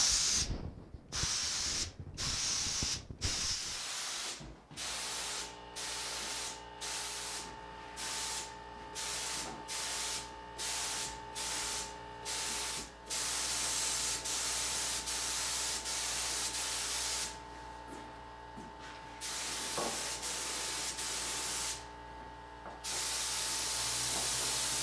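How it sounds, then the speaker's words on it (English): A spray gun sprays automotive toner in a steady series of loud hissing bursts, each a second or so long with short pauses between, followed by longer continuous passes. "I'll show you my spray pattern, and that way you can get an idea of how to add the toner with the spray gun"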